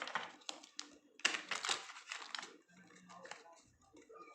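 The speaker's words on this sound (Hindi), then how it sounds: "मुझे थोड़ा सा और शफल करना है गाइस यहाँ पे।" Tarot cards are shuffled by hand in quick riffling, slapping bursts that crowd together at first, then thin out into softer handling.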